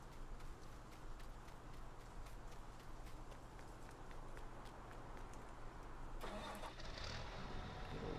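A sprayer's engine cranks and catches in Farming Simulator 19, a steady low rumble over the whole stretch with a brighter burst of starter noise near the end, no talking.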